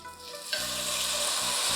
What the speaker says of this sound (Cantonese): 我哋落啲油落去爆香啲香料佢